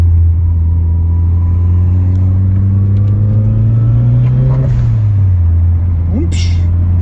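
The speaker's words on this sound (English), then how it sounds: "HK silent high power exhaust system" A car revving through an HK silent high-power exhaust system, a loud, steady, close drone that climbs slowly in pitch, then drops after a blip, with occasional voices underneath.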